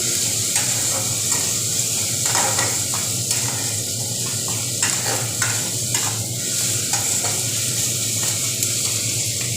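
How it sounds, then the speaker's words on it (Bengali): Onion and garlic fry in a pan for egg tarka, a loud continuous sizzle close by, broken by repeated scraping strokes of a stirring spatula, with no talking. "এটাকেও ভালো করে আমি ভাজা করে নেব যাতে কাঁচা গন্ধ না থাকে পেঁয়াজ এবং রসুনটাকে"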